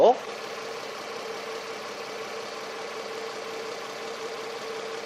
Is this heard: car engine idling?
yes